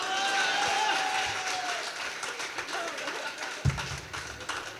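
Audience applause and cheering at a comedy poetry gathering (hasya kavi sammelan) in Agra, a broad crowd wash throughout that fades a little over the clip, with a thump near the end.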